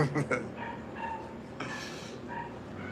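A puppy next door gives short high yips and whimpers over a busy mix of household sounds, fairly close, with a brief burst of louder noise in the middle.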